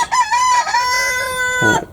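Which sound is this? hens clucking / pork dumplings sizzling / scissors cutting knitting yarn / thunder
hens clucking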